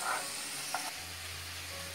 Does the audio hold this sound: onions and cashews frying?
yes